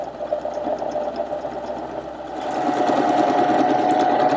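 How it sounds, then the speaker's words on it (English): A Husqvarna Viking Emerald 116 sewing machine stitching the bar tack of a buttonhole runs with a steady whirring motor and rapid needle ticking, growing louder and faster partway through, alone without talk. "it's going to sew the bar tack first, the left side of the buttonhole"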